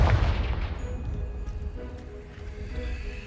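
A Confringo blasting spell bursts against a pile of debris in Hogwarts Legacy, a heavy low boom at the start that rumbles and fades into a quieter settling tail with faint ringing tones.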